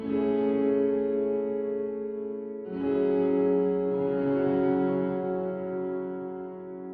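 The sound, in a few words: fully wet reverb on piano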